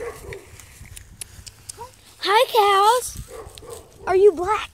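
A dog barks in short harmonic yelps among a herd of cows in a field, with two loud bursts near and clear, while someone talks to the cows between them.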